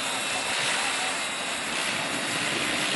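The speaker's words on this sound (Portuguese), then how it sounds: "começar logo com um helicóptero 550 logo para começar." A size-550 radio-controlled model helicopter flies nearby with a steady, continuous high-pitched rotor and motor whine that holds loud and even throughout.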